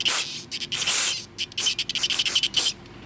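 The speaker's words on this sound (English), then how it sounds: "Now I'll scrub them up, pass wire through the middle" Small engine parts are scrubbed clean in a series of close, rapid rubbing and brushing strokes with short pauses between bursts.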